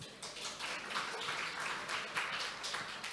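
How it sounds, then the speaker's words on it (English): Audience applause for conference panelists fills the room at a steady, moderately distant level, a dense wash of many hands clapping with no voices over it. "I'd like to invite all attendants to give a round of applause"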